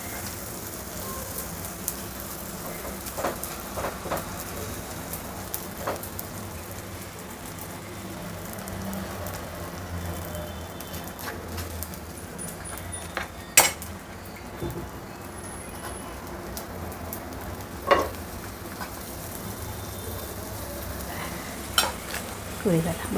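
Paneer bun toasting in butter on a hot pan gives a soft, steady sizzle with occasional sharp clicks and scrapes of a spoon, fairly quiet and close, with no talking.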